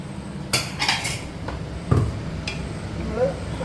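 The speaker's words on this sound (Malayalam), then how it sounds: "നമ്മൾ കുക്കർ തുറന്നു" A pressure cooker being opened after cooking chicken in a home kitchen: a few sharp metallic clanks and clinks of the lid and pot, spaced out over a low background hiss.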